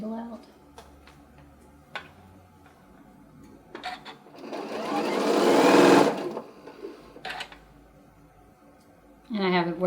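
A sewing machine stitches stuffed pumpkin fabric in a loud, close burst of rapid needle clatter that rises to a peak and stops, with scattered clicks before and a voice talking at the end.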